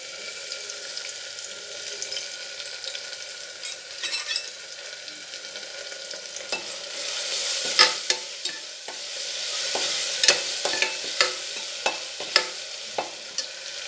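Ginger garlic paste sizzling in hot oil with cinnamon in a pan while making tomato rice, with a steady frying hiss broken by repeated scraping and tapping stirring strokes that grow sharper and more frequent toward the end.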